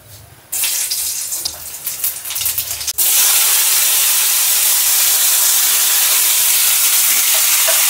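Ivy gourd and potatoes tossed with salt and turmeric fry in a pan. Uneven bursts of stirring give way to a loud, continuous hissing sizzle that fills the rest of the clip.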